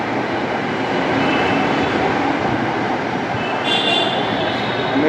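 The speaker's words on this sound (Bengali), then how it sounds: "মেট্রো স্টেশন থেকে বের হচ্ছি" A metro train at a station in Dhaka rumbles steadily with a loud, continuous roar of wheels and carriages, a faint high squeal rising near the end, and no talking.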